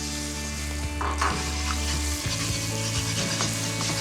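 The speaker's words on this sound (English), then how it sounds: "Whisk up the eggs. And give that a really good whisk." Two eggs are whisked briskly in a hot stir-fry pan, giving a steady sizzle with quick scraping and stirring strokes against the metal and no talking.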